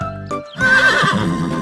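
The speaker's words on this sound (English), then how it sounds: "Horse, hurry up." A cartoon horse gives a loud, bright neigh followed by a short burst of hoofbeats, close and clear, with no talking over it.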